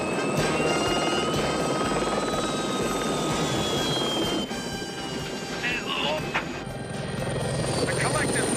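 A helicopter in flight makes a constant loud rotor and engine drone that runs the whole time, with voices talking over it.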